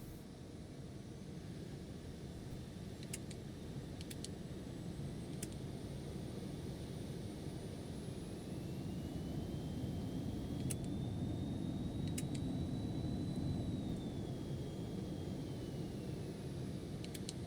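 Phenom 300 jet engines heard from inside the cabin in X-Plane 12 give a steady, broad whooshing roar with a faint rising whine and a few light clicks, continuous throughout with no talking.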